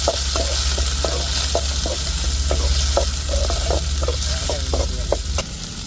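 Tomato and chili sizzle steadily in a hot pan while a spoon stirs and scrapes, producing irregular clinks over the continuous frying hiss.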